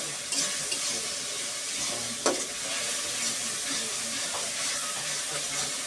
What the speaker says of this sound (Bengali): এটা এখন বাদামি রং আসার আগ পর্যন্ত নাড়বে আম্মু